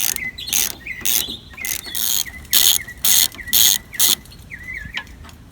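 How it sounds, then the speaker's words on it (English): A T40 ratchet unbolting a tailgate bolt on a 2005 Toyota Tacoma Standard Cab: bursts of rapid ratchet clicking, several loud strokes in a row, with brief squeaky pauses between them. "use the T40 to unbolt this"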